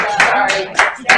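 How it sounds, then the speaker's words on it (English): A few scattered hand claps at a council meeting, brief bursts spaced irregularly across a second, close and fairly loud against a room with a voice present. "I think we can clap."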